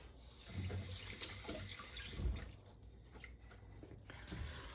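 Water runs steadily from a kitchen tap to wet hands while making dark rye sourdough, a soft continuous splashing with a few brief louder spatters.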